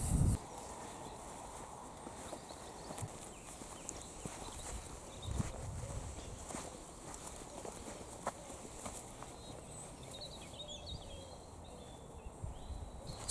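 A herd of goats walks along a woodland path, their hooves making soft, scattered footfalls and rustles on the ground under faint outdoor ambience and distant birdsong.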